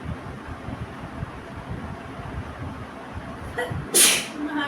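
A single sharp sneeze bursts out near the end after a stretch of low rumbling background noise, loud and close.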